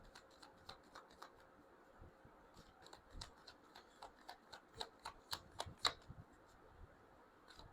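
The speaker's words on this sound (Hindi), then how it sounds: "मैं शफल कर रही हूँ" Tarot cards shuffled by hand in a quiet room: a faint run of crisp, papery taps and riffles that grows denser and a little louder toward the end, with no talking.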